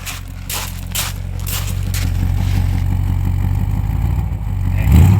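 Bristol 409 V8 engine running close by, a deep rumbling drone that gradually builds and swells into a rev at the end, with some scraping clatter early on.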